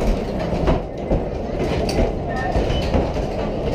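An amusement park train at Great Yarmouth Pleasure Beach rumbles and clatters along its rails beneath the ride structure, a continuous close rolling noise with rhythmic clacks and faint voices mixed in.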